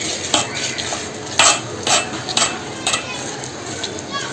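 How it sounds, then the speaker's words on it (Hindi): A spoon stirring eggless vanilla cake batter in a bowl as milk is added little by little, a steady wet scraping and swishing with a few sharper clinks, close and fairly loud. "तो थोड़ा थोड़ा करके हमें इसमें दूध मिलाना है और इसको मिक्स करते रहना है।"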